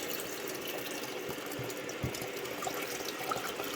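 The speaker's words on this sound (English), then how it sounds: "Pour the fresh water to rinse the results of fermentation, because we want to have the water clear." Fresh water pours over fermented garlic cloves in a kitchen to rinse them, a soft, continuous splashing and trickling close by with no voices.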